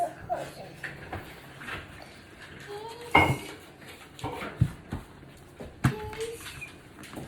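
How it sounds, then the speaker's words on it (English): A knife cuts sticks of butter on a cutting board in a home kitchen while preparing an Easter dinner, with scattered knocks and clinks of blade and dishes against a light background murmur. "So I'm just going to cut up some butter here."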